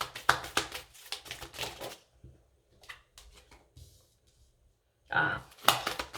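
Tarot cards drawn and laid down one after another on a table: soft flicks, slaps and crisp taps in quick clusters with pauses, close by, as a person speaks.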